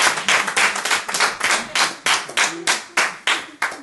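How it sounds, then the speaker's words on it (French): Rhythmic, unison clapping from a church event audience, a steady beat of close, sharp claps at roughly three to four per second. "Bravo à elle encore pour l'applaudissement"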